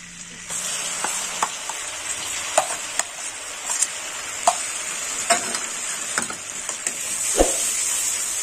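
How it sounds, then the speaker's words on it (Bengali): Onion paste frying in melted butter in a pan for a coriander chicken dish makes a steady, bright sizzling hiss, broken by regular sharp spatula scrapes and knocks against the pan. "বাটারটা গলে গেছে, দিয়ে দেবো পেঁয়াজ বাটা।"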